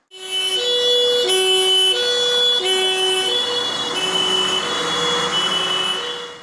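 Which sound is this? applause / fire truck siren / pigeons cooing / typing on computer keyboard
fire truck siren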